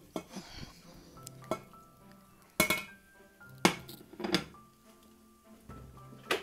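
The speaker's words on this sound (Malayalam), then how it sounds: "ഇനി പാത്രം അടുപ്പത്ത് വെച്ചിട്ട് ഈ കടല അതിലേക്ക് ഇടുകയാണ്." Chickpeas and vegetable pieces go into a pot on the stove for a Kerala kootu curry, giving scattered clinks and knocks against the metal with a few sharper clatters, close and moderately loud.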